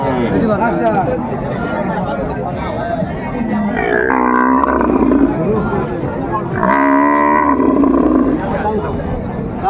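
Cows moo loudly in two drawn-out calls at a crowded rural cattle market in Raniganj, Dinajpur, where dairy cows and calves are traded, heard over steady crowd chatter and nearby talking.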